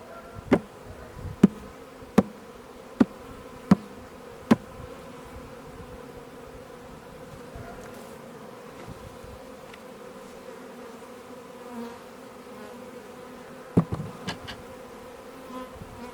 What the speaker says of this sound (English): I am going to get the spare bees out of the lid.